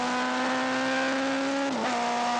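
A racing motorcycle engine pulls hard up a hill at the back of a course, a steady loud drone with one brief dip in pitch near the end, heard alone without talk.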